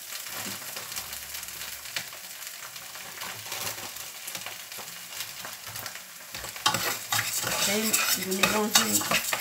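Basmati rice stirred in a pan over sizzling heat, with a spoon scraping and clinking against the metal; the stirring grows louder and more vigorous toward the end.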